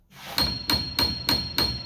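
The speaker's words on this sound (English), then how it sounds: "I've got my hammer in my sample jig" A Baldwin SD6 piano hammer mounted in a sample jig strikes a string five times at an even, quick rhythm, each blow a sharp close knock with a bright ringing tone.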